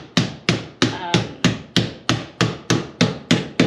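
A floor hammer taps repeatedly on the plastic lid of a food storage bucket, twelve sharp, evenly spaced knocks close up with no talk over them.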